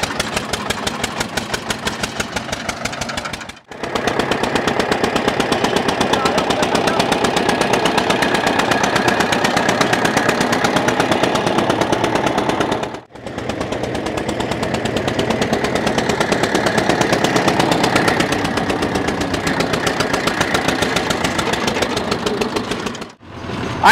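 A single-cylinder tractor engine pulls a 7 ft double-shaft rotavator, its loud rapid thumping exhaust beats running steadily and close, with two brief drops in engine load along the way.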